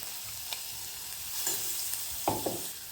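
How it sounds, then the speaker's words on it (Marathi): Minced garlic and green chillies fry in hot oil with cumin and mustard seeds for a quick cabbage dish, giving a steady soft sizzle with a couple of sharp stirring clinks near the end. "लसूण आणि मिरची चांगली भाजलेले."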